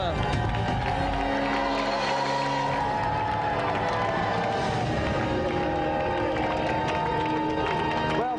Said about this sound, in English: Another round of applause for Phil, Scott and Sam.